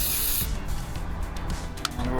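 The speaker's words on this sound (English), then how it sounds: "so just give it a good spray." A short burst of electrical contact cleaner hisses into a dirty trailer connection at a campground, loud and close, giving way to rubbing and handling noises.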